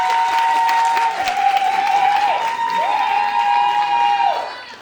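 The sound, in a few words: audience applause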